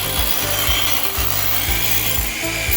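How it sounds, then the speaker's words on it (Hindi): A power drill grinds into stone as craftsmen carve sculptures at Mahabalipuram, a loud, steady abrasive rasp with a rhythmic pulse about every half second and no talking. "ये ड्रिल करके इस तरह से मूर्तियों बनाया जा रहा है"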